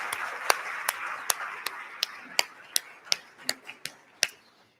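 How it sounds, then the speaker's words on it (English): Sparse, sharp hand-claps ring out one by one at a Columbus zoning event, about a dozen distinct claps spaced unevenly, fading to quiet at the end. "Can we have a round of applause for everybody who's made this possible today?"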